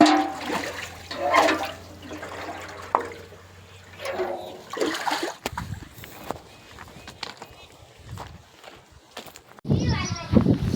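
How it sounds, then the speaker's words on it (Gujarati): Water being sprinkled and splashed, heard as uneven, fairly close gushing and spattering bursts mixed with people talking. "છાંટવાનું છે પાણી"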